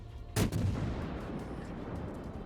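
Naval gunfire in World of Warships as high explosive shells from a North Carolina battleship hit a Mogami cruiser, one loud close boom followed by a long rumbling roar of the aftermath and no voices.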